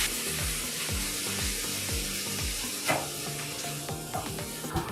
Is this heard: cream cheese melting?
yes